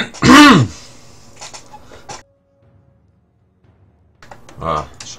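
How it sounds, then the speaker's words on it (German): A person coughs or clears their throat hard once near the start, followed by a few quieter throat sounds and faint clicks during a League of Legends gaming session. "Ah, scheiß Husten."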